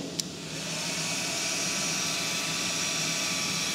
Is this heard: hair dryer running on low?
yes